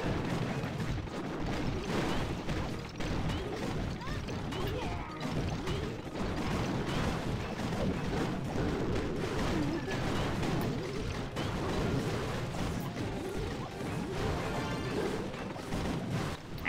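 Cannon cart attacks in a Clash of Clans war battle, a dense barrage of booming shots and crashing impacts layered over busy game music, continuous and loud throughout with no clear gaps.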